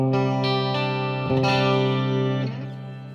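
An electric guitar chord rings through a reverb pedal on a routed pedalboard with proper cabling, a loud sustained wash that shifts when new notes are struck mid-way, then decays into a shimmering tail.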